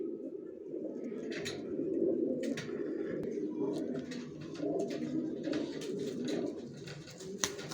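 Grizzle racing pigeons, a mated pair, cooing close by in a steady low murmur with a few soft overlapping calls, over faint background noise.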